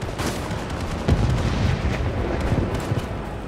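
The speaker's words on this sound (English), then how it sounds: "that was a good grenade" Grenade blast inside the video game World War 3 during a firefight over an urban objective, a dense booming burst with continuous rumbling gunfire and explosion noise filling the whole stretch, no voices.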